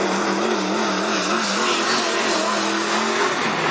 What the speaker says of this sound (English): Here's the number 35 car